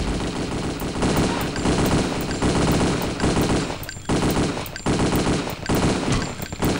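Dense, sustained automatic gunfire from a video game, loud and close, with rapid overlapping bursts that barely pause before resuming.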